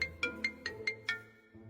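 A phone ringtone plays a bright repeating chime, six quick tonal pulses in a steady rhythm, then stops, clear and alone.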